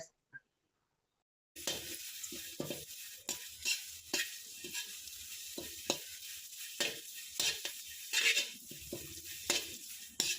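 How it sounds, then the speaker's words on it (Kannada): Curry leaves roasting and being stirred in a pan, starting after a brief silence, then crackling sizzle with repeated scraping stirs and occasional clinks of a utensil against metal, close by. "ಇವಾಗ ಕರ್ಬೇವು ಹಾಕೊಳ್ತಾ ಇದ್ದೀನಿ ಕರ್ಬೇವು ಸ್ವಲ್ಪ ಬೆಚ್ಚಗಾಗೋವರೆಗೂ ಹುರ್ಕೋಬೇಕಾಗತ್ತೆ"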